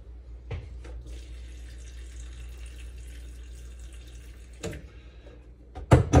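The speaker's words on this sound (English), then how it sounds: "And then I filled up about another 12 ounces of water." Steady stream of water running and filling a Vitamix blender already holding almond milk, fairly close, ending with a few louder clattering knocks.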